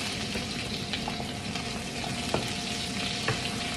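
A pan of garlic, onion and ginger fries in a constant close sizzle, broken now and then by soft clinks and scrapes of stirring, with no voices.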